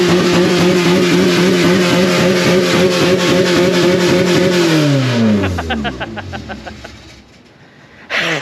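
A car engine revs hard and close just after being started, holding a loud, busy note before it falls away and settles, then briefly picks up again at the end.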